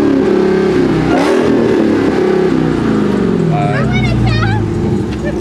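A car engine revs hard and loud, climbing and falling in pitch as the gas is pushed, close by, with people talking over it.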